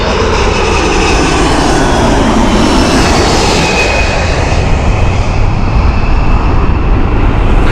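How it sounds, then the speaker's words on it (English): A jet airliner bound for Tashkent departs Heathrow, its engines roaring loud and close in a continuous broadband rumble that shifts slowly in pitch. "This is Tashkent arrived aircraft, or departed aircraft, I should say."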